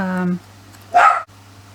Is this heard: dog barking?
yes